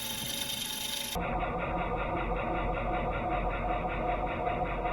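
A sharp gouge cuts a black walnut bowl spinning on a wood lathe, giving a continuous rough shearing and hissing tone with a steady rhythmic pulse after a brief change in the sound at the start.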